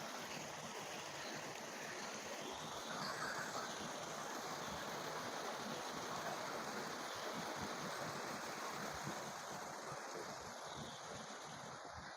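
A riverside waterfall pours steadily into a cold stream, making a constant broadband rush of flowing water that stays loud and even throughout with no talk.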